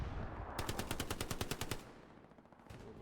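Gunfire in a World War II video game battle: a fast burst of close machine-gun fire of about a dozen rapid shots, then quieter distant shots over battlefield rumble.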